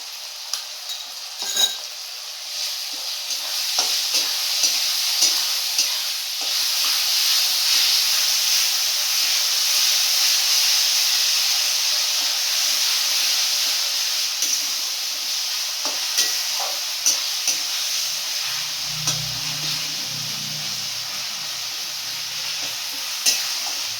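Ginger paste sizzling in hot oil in a frying pan, a steady close hiss with scattered crackles and a brief low stirring knock near the end.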